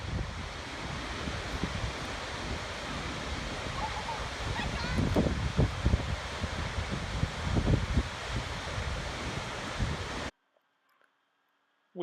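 Skogafoss waterfall in Iceland, a steady broad roar of falling water with wind buffeting the microphone, continuous and fairly loud before cutting off near the end.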